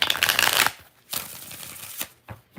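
A deck of tarot cards is riffled and shuffled in a few quick bursts, with a long crisp flutter first and then shorter riffles after brief pauses, close and clear.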